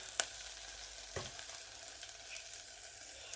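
Minced beef sizzles in a pan with browned onions, a steady close hiss of frying with a soft stir or two, fairly quiet and without voices.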